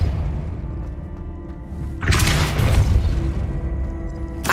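A Depulso spell blast in Hogwarts Legacy, a sudden loud burst of force about two seconds in that rumbles for roughly a second before fading, with a second sharp hit near the end over a steady low game ambience.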